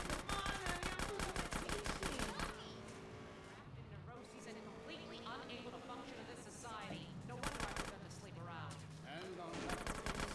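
Rapid gunfire in GTA San Andreas, fast rattling bursts at the start and end with engine and street noise between them, while a player keeps talking over the action.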